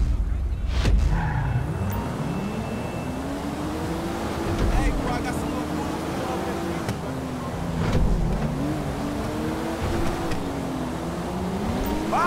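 A Toyota Supra street racing in GTA V, its engine droning and rising in pitch as it accelerates and shifts, steady and fairly close, with other cars and brief talk under it.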